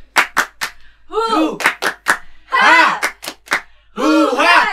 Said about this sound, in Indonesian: Kita ulangi sekali lagi ya. Oke. Tepuk semangat.